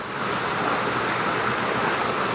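A river runs far below in the mountains, a steady broadband rush of flowing water that stays even and moderately faint throughout, with no voices over it.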